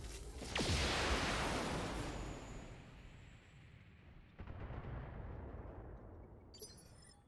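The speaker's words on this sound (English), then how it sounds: "Fire it. the LRM-5 so we do extra damage" LRM-5 missile launch from a Vindicator mech in BattleTech, a loud roaring whoosh that swells up front, then a second blast-like rush of noise with a crackling tail, no voices.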